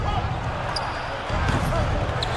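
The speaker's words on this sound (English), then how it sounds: "And a slam dunk by Capella." A basketball video game, likely NBA 2K, with a ball bouncing and a slam dunk amid arena crowd noise under a play-by-play commentator's voice.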